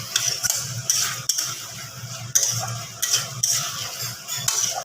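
Fried potatoes being stirred into an egg omelette curry in a pan, with repeated close scraping and clinking of a spatula against metal in an irregular rhythm and a faint sizzle underneath.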